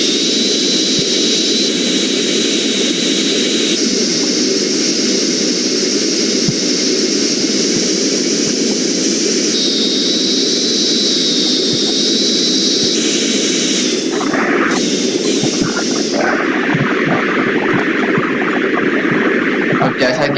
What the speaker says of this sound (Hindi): तो अब ये हम इस जहाज को उड़ाने के लिए ऊपर चलते हैं।